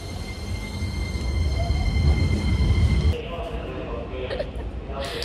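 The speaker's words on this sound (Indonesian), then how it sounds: "Lagi nunggu kereta." A train running at a busy station in Japan, a loud rolling rumble with steady whine that builds for about three seconds, then drops away to lighter station noise and faint background voices.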